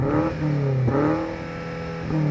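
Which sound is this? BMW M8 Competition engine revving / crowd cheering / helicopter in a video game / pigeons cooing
BMW M8 Competition engine revving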